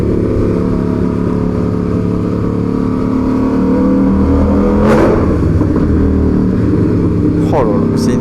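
KTM Super Duke motorcycle engine at the Le Mans Grand Prix roaring and revving at high pitch, with sharp gear-shift pops and a rising whine near the end, loud and close.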